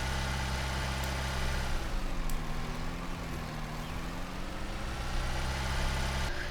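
A tractor engine in Farming Simulator 19 drones loudly with the cab door open, a steady close rumble whose pitch dips briefly and then settles again.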